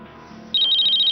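An electronic phone ringtone begins suddenly after a quiet moment in a Hindi TV drama scene, playing a loud, bright, repeating pulsed tone up close.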